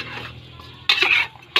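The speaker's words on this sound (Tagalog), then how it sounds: "And haluin natin." A spoon stirring chicken tinola soup in a cooking pot, with two short bright scraping clinks against the metal after a quiet simmering stretch, close and fairly soft.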